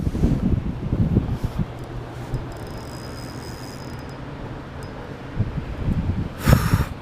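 Gusty wind buffeting the microphone on a lake during bass fishing at Lake Norman, rough low rumbling that swells and fades, with a louder gust at the end.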